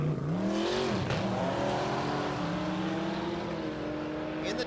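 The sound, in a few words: Jotech Corvette C8 drag racing down the track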